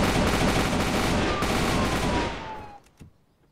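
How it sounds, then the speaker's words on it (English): Gunfire in a video game rattles out in a loud, rapid burst for about two seconds, then cuts off, leaving one faint shot and quiet. "The gunshots are so loud."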